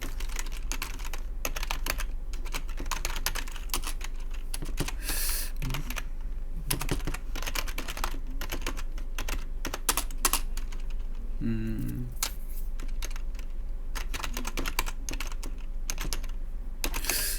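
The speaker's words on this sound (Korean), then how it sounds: "제가 뭐 타이핑 좀 할게요" Steady, rapid clatter of keys on a computer keyboard, close and continuous, with brief pauses between bursts.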